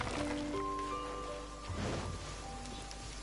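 Steady rain hisses across a Genshin Impact game scene, a dense wash of falling drops with soft musical tones ringing over it throughout.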